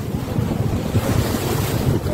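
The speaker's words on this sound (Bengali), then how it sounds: "খুব উত্তাল আছে, হাওয়া হচ্ছে এত," Strong wind buffets a boat crossing rough river water in the Sundarbans, with churning waves slapping the hull and constant wind rumble on the microphone, loud and close throughout.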